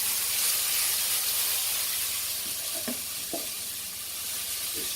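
Tofu scramble sizzles in a pan with spray oil, a steady bright hiss throughout with a few soft scrapes and taps of stirring.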